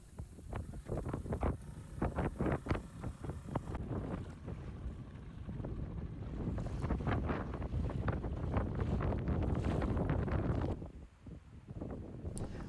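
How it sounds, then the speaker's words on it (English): Wind buffets a microphone aboard a sailboat near the Orkney Islands, bursts of gusty roar with bumps and knocks, then a steadier rush, fairly faint overall with water and hull noise underneath. "It was still quite windy the next day"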